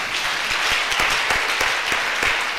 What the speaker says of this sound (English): Your hand claps are scaring me.